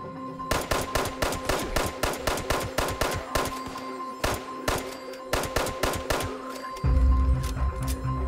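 Rapid automatic gunfire from a firefight with a bandit gang at a lumber company in the video game Fallout 76. Two long, loud bursts of closely spaced shots are split by a brief pause, and a heavier low rumble comes in near the end.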